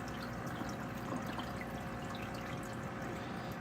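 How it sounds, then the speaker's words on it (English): Water drains quickly down the outlet of a flood-and-drain microgreen tray in a soft, continuous trickling rush, faint and steady throughout. "So now water is going down the outlet, down the drain, fairly quickly, and now the pump stopped."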